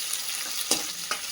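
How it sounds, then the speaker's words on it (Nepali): Onion frying in a pan gives a continuous bright sizzling hiss, with a couple of brief louder crackles or stirring clicks over about a second. "प्याज फ्राई, फर्स्टमा प्याज फ्राई गर्यो।"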